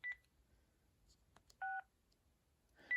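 Three short, clean DTMF keypad beeps come from a Panasonic KX-TG6841 cordless phone, spaced over a few seconds against near silence.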